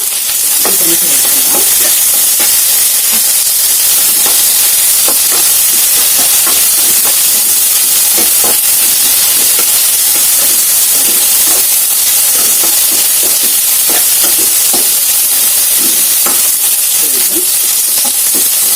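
Chopped okra sizzles and hisses loudly in hot oil in a home kitchen pan, a constant bright frying crackle with occasional popping bursts and stirring clatter, no voices.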